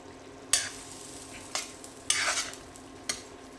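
Stuffed brinjals (bharli vangi) fry in a pan with a soft sizzle, while four distinct spatula scrapes and turns ring out close by, spaced about a second apart.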